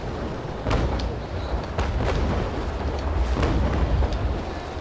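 Warship cannons fire during a high-seas battle in the Naval Action video game, several deep booming shots over a continuous low rumble of sea and wind.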